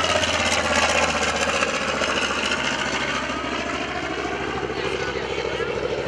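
TBM Avenger propeller aircraft at a 2011 Rhode Island Air National Guard open house airshow, a loud continuous engine and propeller drone holding steady nearby throughout.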